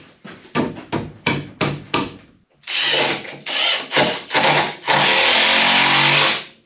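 A Kobalt reciprocating saw cuts a notch in an oak post on a cabin build, starting with several short rasping strokes and then running in longer, louder continuous cuts, close up.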